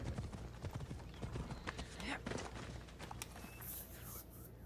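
Horse hooves clip-clop rapidly at a gallop in Assassin's Creed Odyssey, a steady drumming rhythm close by, with an occasional whinny, game ambience and a voice talking over it.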